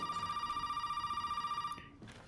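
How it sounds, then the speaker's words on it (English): A telephone rings in Resident Evil 7, a sharp electronic trill pulsing rapidly and loudly before cutting off abruptly near the end. "that phone keeps going"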